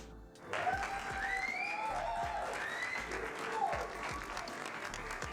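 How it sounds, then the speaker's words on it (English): Applause from a small group at a live evening broadcast, steady clapping throughout with a faint whistle-like tone drifting above, moderately close. "I think you deserve a round of applause."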